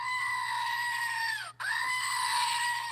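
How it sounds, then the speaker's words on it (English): A screaming goat toy lets out a long, loud, piercing bleat-like scream. It cuts off abruptly, then starts again at full volume over a low steady hum. "I also have a screaming goat"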